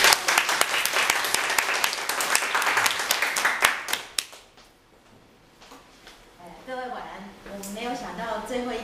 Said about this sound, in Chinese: 我们掌声欢迎她